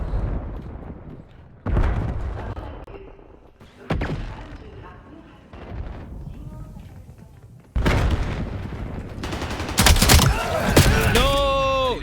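Shotgun blasts ring out in a first-person shooter game, several loud booming shots clustered late among scattered thumps and game noise, with a player talking over the action.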